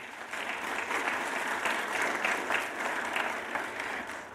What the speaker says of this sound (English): I would like you to give her a round of applause